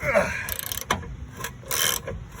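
A fine-tooth ratchet wrench clicks in short bursts while someone works on an OBS-era Chevy truck, with close, crisp mechanical ratcheting broken up by brief pauses.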